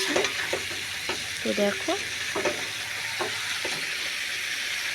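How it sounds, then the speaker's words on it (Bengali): Chicken sautéed with spices in a pan gives a steady, loud sizzle with scraping stir strokes every second or so, while a voice speaks briefly near the start. "মাংসটা যতটা পারবে ভালো করে কষিয়ে নেবে"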